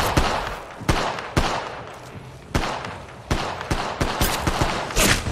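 Rapid bursts of gunfire from an Apex Legends Mobile firefight: sharp, loud shots crack in uneven volleys, some spaced apart and others in quick clusters, over a constant noisy battle backdrop.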